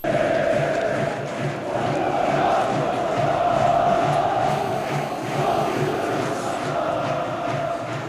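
Football fans chanting and cheering in the stands of a stadium, a dense continuous crowd roar with rising vocal swells, heard from a distance.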